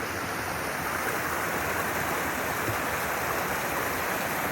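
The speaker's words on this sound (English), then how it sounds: "Look at this stream coming down here." A mountain stream rushing steadily downhill, a constant broadband wash of flowing water, close and even throughout with no voices.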